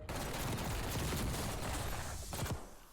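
Kompakt firing in 3-round burst mode in Warzone on Rebirth Island: loud, dense rapid gunfire pouring out continuously for nearly three seconds, then a few final shots before it cuts off.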